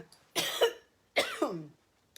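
Two short, sharp allergy coughs a moment apart, close by, with quiet in between.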